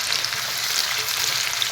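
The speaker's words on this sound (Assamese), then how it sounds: "ইয়াতে এতিয়া প্ৰথমতে ইয়াত দি ল'ম মই কাটি থোৱা পিঁয়াজখিনি। পিঁয়াজখিনি প্ৰথমতে ৰংচঙুৱা কৰি ল'ম।" Chopped onions sizzling in hot oil in a pan for chicken curry, a steady close hiss of frying with faint stirring crackle throughout and no voices.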